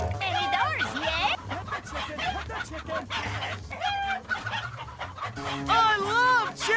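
Chickens cluck in quick, excited bursts, with squawks and a rooster-like crow among them, mixed into busy cartoon sound effects and chatter, fairly loud throughout.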